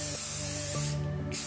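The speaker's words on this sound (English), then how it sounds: "spray paint them gold" Aerosol spray paint hisses steadily and loudly onto red metal hairpin legs, coating them gold in one continuous close-up burst.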